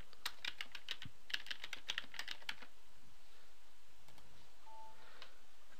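Quick bursts of keystrokes on a computer keyboard, close and crisp, in short uneven runs that stop midway, leaving a quiet room with faint clicks.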